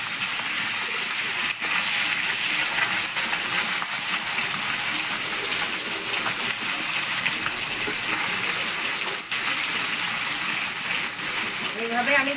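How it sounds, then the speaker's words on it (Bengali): Small puti fish fry in oil with a loud, continuous hissing sizzle close by, broken by a few faint clicks near the end. "এইভাবে আমি সব মাছগুলোকে ভেজে নেব"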